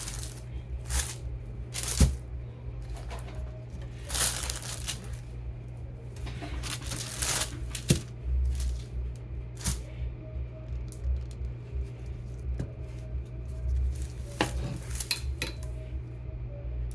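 A knife slicing through a lemon and turmeric soap loaf on a hard surface, with repeated short cutting knocks and scrapes over a steady low hum, no talking.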